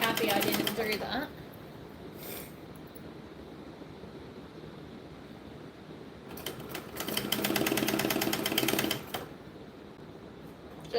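A sewing machine stitches a bag in fast bursts, one short run at the start and a longer, louder run near the end, with a quiet pause in between.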